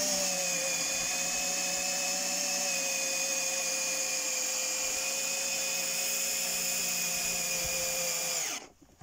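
A cordless drill driver with 42 Nm maximum torque whirs at a steady high pitch for several seconds, loud and close, then winds down abruptly at the end.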